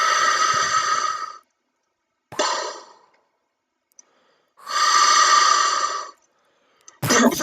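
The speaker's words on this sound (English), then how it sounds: "And then you hear the breathing." Darth Vader's mechanical respirator breathing in Maul Shadow Lord, two long hissing inhale-exhale cycles with a short breath between, loud and close, broken by near-silent pauses and no talk.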